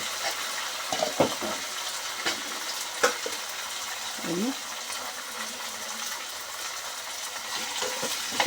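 Onions, green chillies, curry leaves and chopped breadfruit stirred in a frying pan for a traditional Kerala curry, a steady sizzle with scraping spoon strokes and a few clinks, close by, alone.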